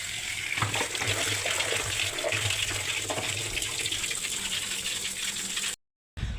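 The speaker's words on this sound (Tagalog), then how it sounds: "magbabanlaw tayo matapos natin magbanlawan yan" Hand-washed laundry being rinsed in water, heard as a steady close gushing and splashing of running water that fills nearly the whole stretch, cutting out briefly near the end, with no talking.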